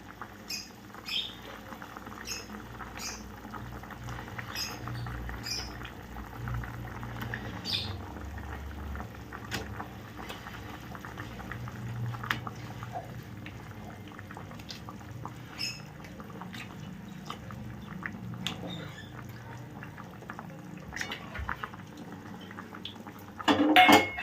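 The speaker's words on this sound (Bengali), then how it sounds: "ফুটতে থাকুক ফুটে ঝোলটা কমে আসুক" Prawn curry gravy simmers in a pan, giving soft scattered pops and ticking bubbles over a quiet low rumble, steady and fairly faint throughout with a slightly louder clatter at the very end.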